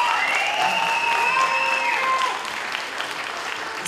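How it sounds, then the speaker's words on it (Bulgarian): An audience at a Haskovo cultural festival claps steadily for an organiser from the Zarya community centre, with a thin tonal whine over the crowd before the clapping thins out. "Моля вашите аплодисменти за Милена"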